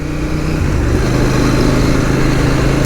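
A CFMOTO 800 MT Explore motorcycle engine runs steadily nearby, loud and continuous, with a low, slightly rough throb that holds at constant revs throughout.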